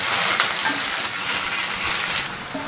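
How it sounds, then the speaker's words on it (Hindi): Whole spices crackle and sizzle loudly in hot cooking oil, a dense continuous frying hiss running throughout with no speech. "सबसे पहले मैं ये खड़े मसाले डाल रही हूँ इसमें"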